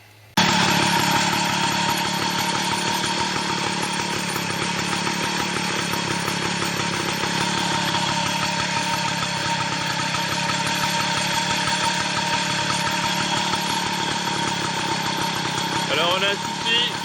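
An old moped engine fitted with LED flash indicators cranks and catches, then idles loudly and steadily up close with a rapid buzzing putter, a brief blip near the end.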